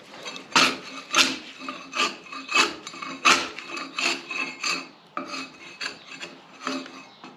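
A debarking iron scrapes bark off a log in about a dozen rhythmic, close rasping strokes, each a short harsh scrape with brief pauses between.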